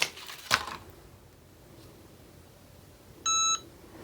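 A Cricut heat press timer gives a single short, clear electronic beep near the end, following a couple of faint clicks and quiet room noise.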